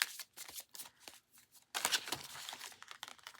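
A deck of square cards with slightly sharp corners riffled and shuffled by hand, giving close crisp bursts of flicking and rustling, a sparser stretch followed by a denser, louder run.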